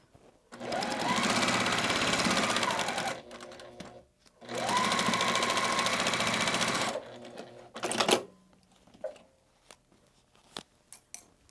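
A sewing machine stitches quilt block pieces in two long, fast continuous runs separated by a pause, followed by a few clicks and handling sounds, close and with no talk.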